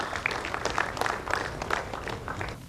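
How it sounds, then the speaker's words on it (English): An audience at a business awards ceremony greets the keynote speaker with a fairly quiet round of scattered, distinct claps that tapers off at the end. "Everybody, put your hands together for a round of applause"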